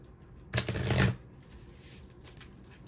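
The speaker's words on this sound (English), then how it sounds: "So let's shuffle." A single quick riffle of oracle cards being shuffled, close and crisp, followed by quiet room tone.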